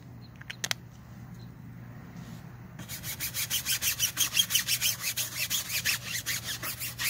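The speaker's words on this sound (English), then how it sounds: "So the more I'm scrubbing it and agitating" Tire being scrubbed with a brush and all-purpose cleaner, a series of rhythmic back-and-forth scrubbing strokes, close and moderately loud, beginning after a few quiet seconds with faint handling clicks.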